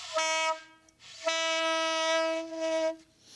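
A voice mimics a raw, buzzy saxophone honk in two sustained blasts, the second long and wavering, loud and close.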